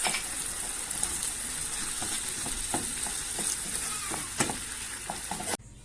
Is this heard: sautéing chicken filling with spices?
yes